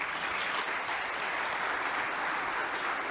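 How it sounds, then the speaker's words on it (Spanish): Steady audience applause for invited guests at a conference session, dense and even throughout with no voices over it. "un aplauso para nuestros invitados"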